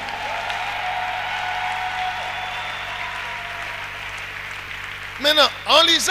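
Church congregation in a French-language service applauding and cheering for Jesus, a steady crowd-wide clapping and voices throughout, with a few loud sung or shouted cries rising near the end.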